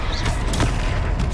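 Stupefy spell fired during combat in the video game Hogwarts Legacy: a quick run of loud, punchy magical blasts and booming impacts packed into just over a second.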